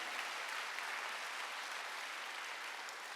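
A church congregation at a Wednesday worship service applauds, a dense, steady patter of many hands clapping continuously at moderate volume with no voices over it.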